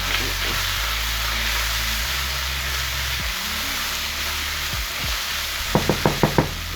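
Garlic frying in a pan for saltfish, a steady broad sizzle under a low engine-like hum, ending with a quick series of sharp knocks or taps.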